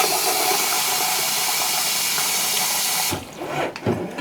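Water pours steadily into a pressure canner in a home kitchen, a loud continuous rushing stream that stops abruptly, followed by a few clunks and splashes.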